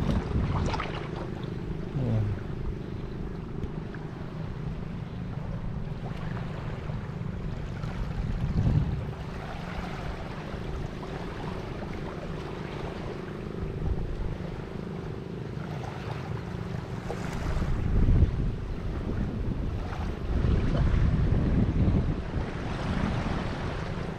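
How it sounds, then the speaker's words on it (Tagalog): Sea waves washing around a boat on open water, a continuous rushing wash with wind buffeting the microphone and periodic swells of surf, steady and unbroken with no voices. "ang ganda ng dagat na ito mga kasinag"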